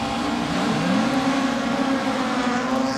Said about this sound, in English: Listen to the variety of engines out there.